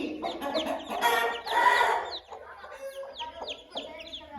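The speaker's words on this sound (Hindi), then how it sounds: "दोस्तों मुर्गे चेक करें माशाल्लाह, ये चेक करें।" Chickens cluck in a backyard coop, a mother hen among her newly hatched chicks, with several overlapping clucks and high peeping calls, moderately close and steady throughout.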